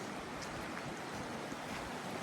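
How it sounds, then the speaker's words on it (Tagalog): A river near Glenfinnan in Scotland flows in a constant, soft, hissing rush of moving water with no breaks and no voices. "yung tubig dito sa ilog, oh. Sarap pakinggan. Maagos, oh."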